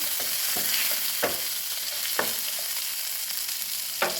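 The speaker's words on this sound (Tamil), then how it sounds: "ஒரு டைம் லைட்டாக வதக்கி விட்டுட்டு" Black nightshade greens being sautéed in a pan for chutney sizzle steadily, with a few sharp scraping stirs of a spatula against the pan cutting through the frying hiss; close and alone, no talk.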